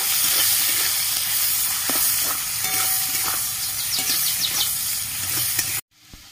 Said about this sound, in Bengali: দুটো কুচিয়ে রাখা পেঁয়াজ দিয়ে দিচ্ছি তেলের মধ্যে। পেঁয়াজটা লাল করে ভেজে নেব।